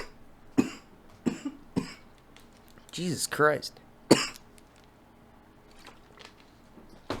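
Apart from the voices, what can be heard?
coughing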